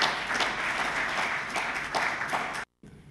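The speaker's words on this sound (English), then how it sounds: "I wish you to give him a big round of applause" An audience at a Jamaican cannabis industry conference applauds a presenter, a fairly loud continuous round of clapping that cuts off abruptly near the end, followed by a faint quiet tail.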